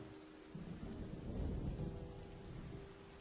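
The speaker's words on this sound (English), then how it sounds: "I love listening to the sound of rain, even though it doesn't really help much when recording" Steady rain pours during a thunderstorm, a dense even hiss with a deep rumble of thunder swelling in the middle, heard alone without any voices.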